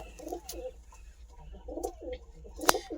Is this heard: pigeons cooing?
yes